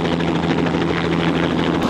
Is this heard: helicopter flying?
yes